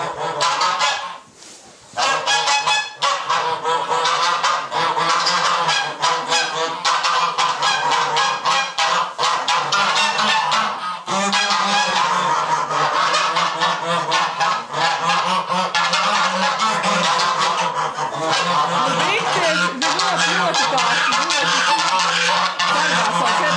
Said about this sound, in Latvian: arī mūsu zosis nepacietīgi gaida